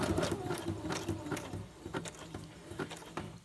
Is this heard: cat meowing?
no